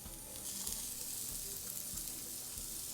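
Eggplant, zucchini, broccoli and tomato for a vegan curry sizzle quietly in a pan, a soft continuous hiss with faint low knocks at regular intervals, no voices.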